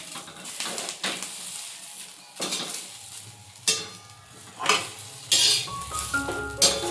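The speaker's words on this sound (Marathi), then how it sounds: "फास्ट गॅसवरतीच आपल्याला मिरच्या चांगल्या तेलामध्ये तळून घ्यायचे" Green chillies frying in oil in a pan over a high flame, with bursts of sizzling and repeated scraping and clinking of a spatula against the metal, up close.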